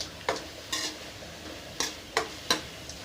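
Stirring arai keerai greens in a pan with salt added, giving a few separate scraping, sizzling strokes spaced out over a few seconds, moderately close and with no voices.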